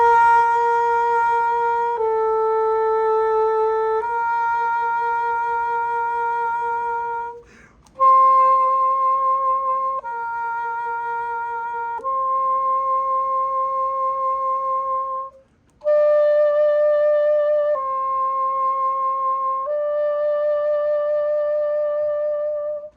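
Exercise 39 long tones at 72 bpm on a sustained wind instrument: a steady series of held notes, each about two to four seconds long and changing pitch in step, played alone and clearly with no talking.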